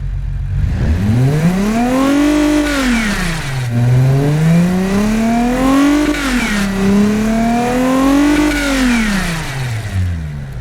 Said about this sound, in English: let's get to hear what this engine sounds like right now